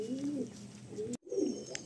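A male Kalasabuj pigeon at a loft in Garia, Kolkata, gives soft, low, rolling coos close by. Two short phrases are split by a brief silence, with no talk.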